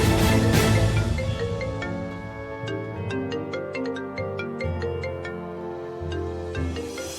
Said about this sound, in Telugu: జీవన్ ఫోన్ చేస్తున్నాడేంటి?